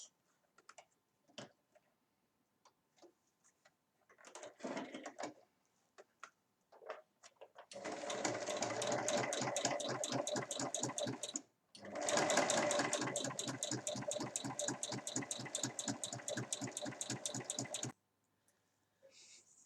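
A domestic sewing machine stitches the fabric handles for a rectangular fabric basket, sewing 1 mm from each edge. A few short starts and clicks lead into two long, steady, close runs of rapid needle chatter, split by a brief pause.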